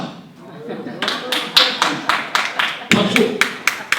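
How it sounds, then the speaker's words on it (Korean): Audience at a Korean special lecture clapping, a brief run of about a dozen sharp, fairly evenly spaced claps following speech, close and distinct. "박수."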